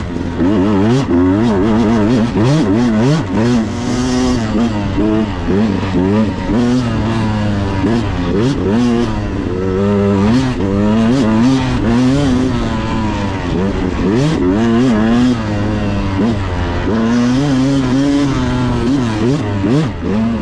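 A 2022 Beta 200RR Race Edition two-stroke dirt bike engine revs up and down repeatedly, loud and close, its pitch sweeping in rhythmic rises and falls across a long continuous run.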